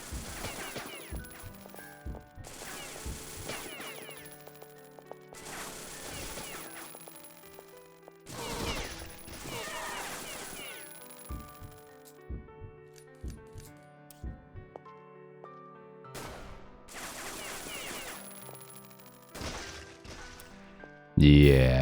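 Gunfire barrage in the shooter game Beyond Citadel: repeated bursts of rapid shots and metallic clatter arriving in waves every couple of seconds, loud and close, with quieter gaps between volleys.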